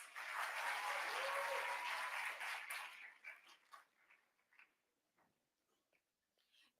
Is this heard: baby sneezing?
no